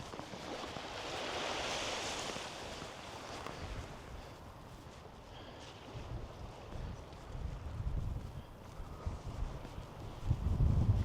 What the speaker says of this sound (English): Let's listen to the waves lapping on the shore.